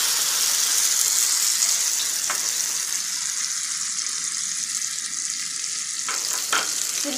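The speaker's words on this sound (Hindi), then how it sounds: "अब हम इसमें टमाटर पेस्ट डाल देते हैं 1 कप।" Tomato paste added to garlic frying in a pan for chicken shashlik gives a steady bright hiss and sizzle, with a few sharp utensil clicks near the end.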